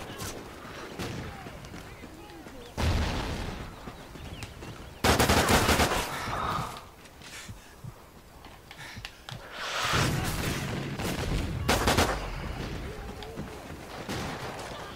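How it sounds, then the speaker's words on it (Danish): Gunfire in the Call of Duty Ghosts video game comes in bursts of loud automatic fire and scattered shots, fairly close, with quieter stretches between volleys and someone talking now and then over the fighting. "Jeg kan ikke lige helt orientere mig, hvor skuden kommer fra."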